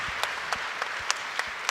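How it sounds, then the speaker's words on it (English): Scattered applause from an audience at a climate politics forum, acknowledging two politicians, with a few sharp individual claps standing out over a dense, fairly soft wash of clapping. "can we just give a round of applause for two politicians who are doing the right thing in leadership?"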